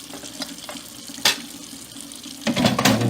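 Tap water running and splashing over a Philips air fryer part held under the faucet in a kitchen sink, a steady close rush that breaks into louder clattering spatters as the part is turned.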